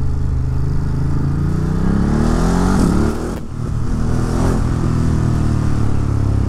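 A decatted Ducati motorcycle rides past steadily with its engine droning, revving up and accelerating hard, close and loud throughout with a brief dip midway.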